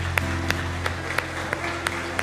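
A church congregation applauding during a Portuguese-language worship service, steady rhythmic clapping with periodic louder claps about every third of a second, over a sustained low organ or keyboard tone.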